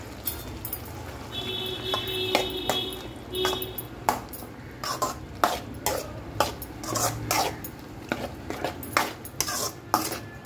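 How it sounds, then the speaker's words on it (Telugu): A ladle clinks and scrapes against a metal pot as ground onion-tomato paste goes into boiled vegetables for kurma, a series of sharp irregular taps and knocks with a few ringing pings, close by and without talk. "ఇప్పుడు గ్రైండ్ చేసి పెట్టుకున్న ఉల్లిపాయ టమాటో పేస్ట్ని యాడ్ చేస్తున్నాను"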